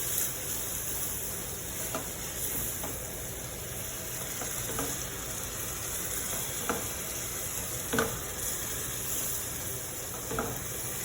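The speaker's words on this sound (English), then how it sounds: "stir in your mix" Shepherd's pie mix sizzles steadily in a hot pan, an even frying hiss running throughout with faint scrapes and taps of a utensil stirring at irregular intervals.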